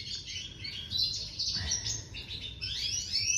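Small indoor-bred cage birds chirp and twitter continuously at close range, overlapping high tweets with a brief lull partway through and no speech.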